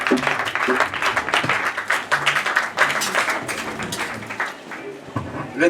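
A church congregation claps while seated during a worship service, a steady dense patter of many hands filling the room, with voices mixed in underneath.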